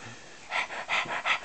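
Close, breathy panting comes in four quick rhythmic puffs after a quiet start, sounding like a small dog panting rather than a baby, with no talking over it.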